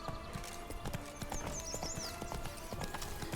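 Hooves clip-clop steadily on a horse in the Witcher 3: Blood and Wine video game, a regular run of close, crisp hoof strikes with a brief high whistling call partway through.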